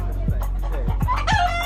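A rooster crows loudly and close by at a cockfighting operation, a single drawn-out call with a rising, harsh tone over a steady low hum.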